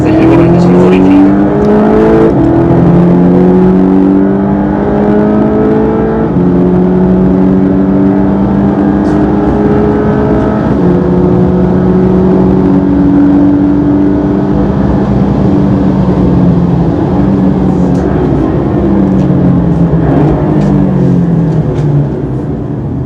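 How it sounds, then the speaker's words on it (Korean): A Hyundai test car driven in normal mode with deliberate manual gear shifts, its engine droning loud and close from inside the cabin, pitch climbing through each gear and dropping at every shift, with wind and road noise underneath. "엔진 소리가 어디서 나는지, 바람 소리도 어디에서 주로 들리는지 이런 것들을 좀 확인할 수가 있으실 겁니다"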